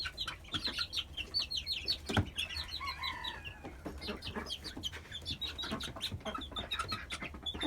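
Backyard chickens on a small farm cluck and chatter in short bursts, several birds close by with scattered pecking and rustling, moderately loud, with no talking.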